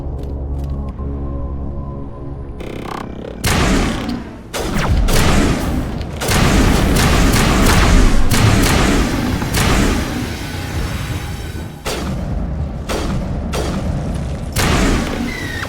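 Assault rifle fire in the video game Mass Effect during a fight against Geth at a colony: loud, rapid bursts of booming shots packed densely together, punctuated by heavy thuds and explosions, with no talking.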